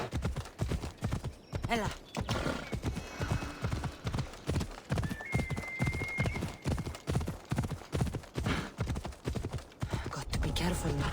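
Horse hooves gallop in Assassin's Creed Odyssey, a fast, steady clip-clop rhythm of close, loud hoofbeats running throughout, with a brief spoken word and occasional game sounds over it.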